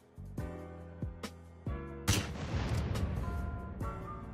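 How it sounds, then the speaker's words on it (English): Gunfire in GTA San Andreas as a sniper shoots an explosive barrel to spring an ambush on Yakuza and Mafia members: several sharp separate shots ring out, then a loud blast with a long rumbling, crackling tail and scattered later pops. "Alright, sniper. Hit the barrel and make an ambush with Kyle."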